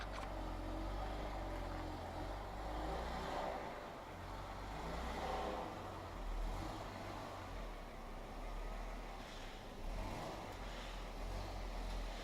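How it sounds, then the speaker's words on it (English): A 2016 Jeep Wrangler Unlimited Rubicon creeps slowly into a garage, giving a low, steady engine rumble at idle with faint mechanical noise, fairly quiet and continuous, with no talking. "let's go ahead and get the Jeep in the garage."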